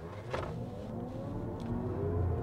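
A rear-drive 2024 Chevy Blazer EV hums and accelerates steadily on a highway at a moderate distance, with a smooth rising drone and faint road noise, no voices.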